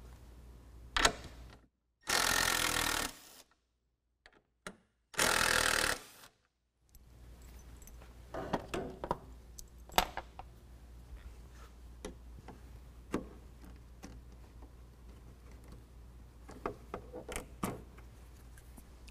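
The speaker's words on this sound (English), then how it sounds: "We're going to pull out the 2 bolts with a 10mm and pop out the push pin with a fastener removal tool." Work on a 2018 Ford F-150 headlight: scattered metallic clicks and taps of a 10mm wrench on bolts and a push pin being popped, with two loud bursts of a power tool in the first seconds, no talking.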